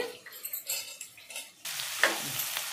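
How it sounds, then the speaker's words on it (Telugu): A curry of stuffed brinjal and broad beans is stirred in a pan, with soft scraping and clinks of a spoon giving way to a louder, steady sizzle in the second half; close, no talk. "బాగా కలపాలండి, బాగా మగ్గాలండి"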